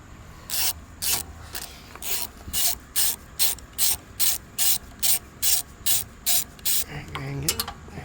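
A ratchet works a valve cover bolt loose on a Briggs & Stratton V-twin engine, with about fourteen evenly spaced, close, crisp clicking strokes followed by a brief rattle as the tool finishes.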